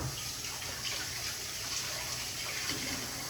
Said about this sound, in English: I think I spend more time washing my hands when I cook